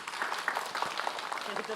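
An audience at an Islamic religious talk clapping together in a brief, dense burst of applause, with voices over it.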